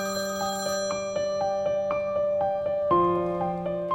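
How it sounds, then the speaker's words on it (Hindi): A telephone rings in a small restaurant setting, a bright electronic ringtone repeating in a quick regular melodic pattern, clear and close with no talk. "फिर मुकुल अपने मालिक को फोन करता है"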